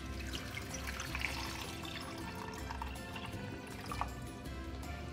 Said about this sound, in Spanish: Le vamos a agregar agua.